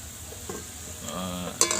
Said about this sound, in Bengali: পেঁয়াজ মরিচটা ভালোই ভাজা ভাজা হচ্ছে মরিচ না দুঃখিত পেঁয়াজ এবং রসুন